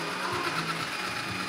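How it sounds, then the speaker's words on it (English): A Yeedi robot vacuum cleaner sweeps the floor with a steady, continuous motor whir and brushing noise, close by and alone. "We still love this vacuum"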